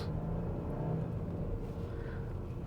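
An old petrol Toyota Alphard with a two-litre engine accelerates in sport mode, giving a low, steady engine whir and rumble heard from inside at modest volume.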